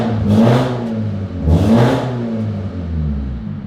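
A BMW 330e engine fitted with a new downpipe exhaust revs twice in quick bursts, rising sharply and falling back to a rough idle between them, loud and close by.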